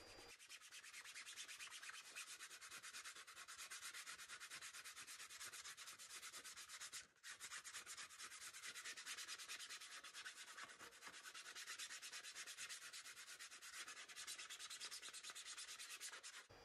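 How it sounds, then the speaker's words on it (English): Steady, continuous rasping of sandpaper rubbed by hand over a PLA+ 3D print, close and even, with one brief pause midway. "while you're sanding with your hand, you can kind of feel the smoothness of the print coming out"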